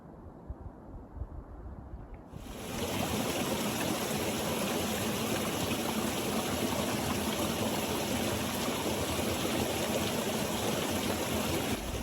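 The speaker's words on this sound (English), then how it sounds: "you can get this really cool shot of Britta Vale Falls down there flowing down into the valley" Bridalveil Fall in Yosemite, heard from a South Rim viewpoint, a steady broadband roar of falling water that swells in after two seconds and holds continuously, loud and unbroken.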